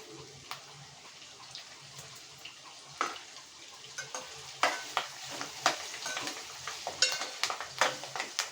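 Bitter gourd fry with curry leaves being stirred in a pan, giving a soft continuous sizzle broken by sharper scraping and clinking strokes of the spoon that grow busier toward the end, close and fairly quiet, with no talking.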